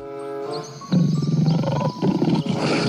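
A lion roars inside a shooting video game, a loud, close growling roar that swells after a brief lead-in and carries on in rough pulses for nearly three seconds, with no talking over it.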